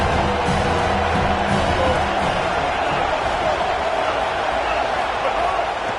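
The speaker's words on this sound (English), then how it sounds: "how nice is it to have the home crowd going absolutely bananas?" Home crowd at an Alabama vs Ole Miss college football game, a dense, steady roar of cheering that stays loud and unbroken for the whole stretch.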